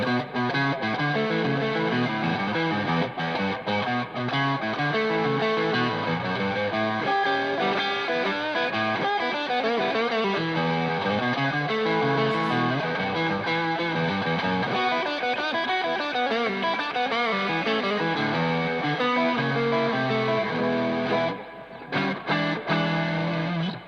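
A distorted, screaming lead tone from an electric guitar played through a Bluguitar amp, with continuous phrases and sustained notes at a loud, even level and no talk.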